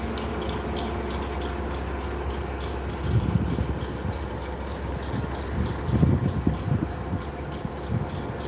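A railhead treatment train hauled by GB Rail Freight locomotive 67027, in Collis Rail branding, passes in Gloucester with a steady mechanical rumble and clanking, swelling louder around the middle and again near the end, with no voices.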